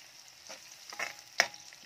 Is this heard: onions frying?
yes